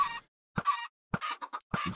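Chickens clucking in the Minecraft video game, four short separate clucks spaced by silences, each a quick bright squawk heard close and alone.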